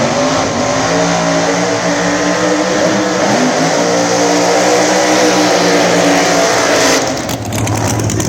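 Pro Mod drag race cars with nitrous and supercharged blower engines roar continuously at full volume, a loud sustained engine drone with a brief dip and crackle near the end.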